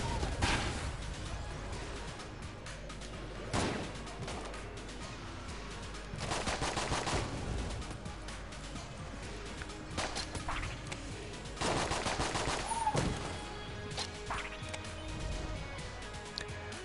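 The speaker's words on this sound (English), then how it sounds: "It fires pretty quickly, so yeah, it's definitely good as shotguns go." Shotgun blasts in the video game Enter the Gungeon fire in quick, loud bursts at irregular intervals, with other game noises between the shots.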